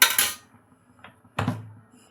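Soaked peas tipped into a cooking pot for pattani kuruma, with a clatter of metal utensils against the pot at the start and a second sharper clank and rattle later, close and fairly loud.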